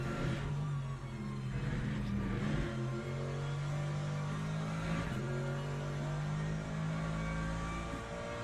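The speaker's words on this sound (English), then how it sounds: "Here comes more LMP2s coming." LMP2 race cars in the Le Mans Ultimate racing game drone steadily at high revs, a sustained loud engine whine with slight pitch swells as cars close in, no talking over it.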